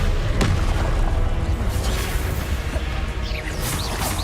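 Spellcasting in Hogwarts Legacy, an Expelliarmus cast: a dense, loud magical burst with a booming, crashing thump and whooshing energy that stays busy and sustained throughout.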